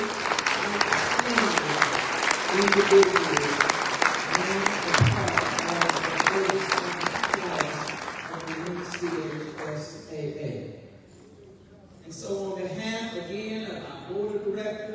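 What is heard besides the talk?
audience applause at a hall of fame banquet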